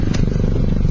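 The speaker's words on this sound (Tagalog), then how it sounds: "Umandar na ang makina natin" A Toyota Fortuner engine cranks and catches after a fuel filter service, settling into a steady, close, loud low rumble with a brief bright burst near the start and no pause.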